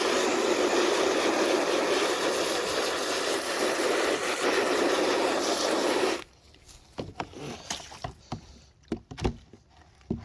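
A hose sprays water steadily over an emptied fodder tray for about six seconds, then cuts off, leaving scattered drips, splashes and knocks.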